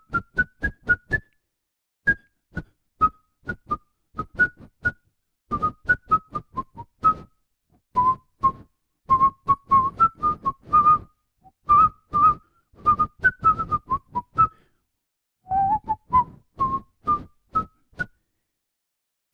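A person whistles a tango melody alone, in short clear phrases with brief pauses between them, close and fairly soft.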